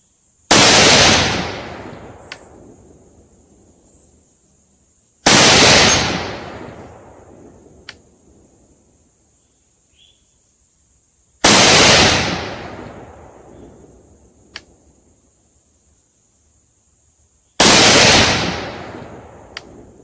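Four loud rifle shots, fired with a drop-in trigger, crack out at roughly five-second intervals, each one a sharp, close report followed by a fading outdoor echo, with no voices.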